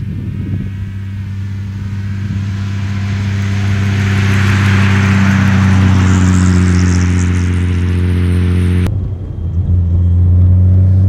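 A 1937 Maybach SW 38 Cabriolet driven by a chauffeur, its engine rumbling steadily with a low, even hum that swells slightly mid-run before a brief break and then resumes.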